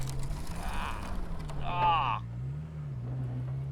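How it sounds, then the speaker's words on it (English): A low race car bottoms out on a public street, its underside scraping briefly over a steady engine drone that carries on beneath before and after the grinding contact. "Because that noise is the car bottoming out."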